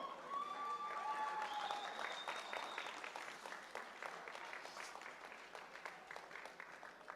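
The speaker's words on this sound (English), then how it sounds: "One more time, round of applause for your new 105 kilo East versus West world champion" Audience at an East versus West arm wrestling event applauding the new 105 kg right arm world champion, sustained hall clapping with a few whistles near the start, fading gradually.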